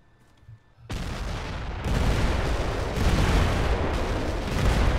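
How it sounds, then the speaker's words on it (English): Artillery barrage in the military game Arma 3: after a quiet start, a sudden heavy roar of shell impacts erupts and builds into a dense, continuous rumble of overlapping booms that rises again midway and keeps going loud to the end. "Firing the barrage."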